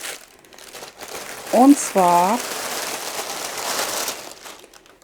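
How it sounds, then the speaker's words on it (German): A cloth covered in dog hair crinkles and rustles as it is handled, with a short crisp burst of crackling amid a soft continuous rustle while a person speaks briefly over it. "Es kruspelt jetzt ein bisschen."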